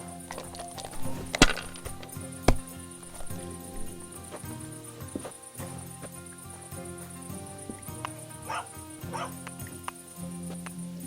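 A dog barks in the medieval world of Kingdom Come: Deliverance II, with a few sharp, close barks near the start and scattered yips over steady outdoor ambience and crickets.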